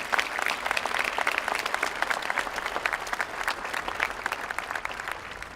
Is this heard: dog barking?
no